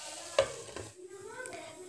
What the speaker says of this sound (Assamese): এই ভাজিখিনি প্ৰায় মই 5 মিনিটৰ পৰা 7 মিনিটলৈকে ভাজি ল'ম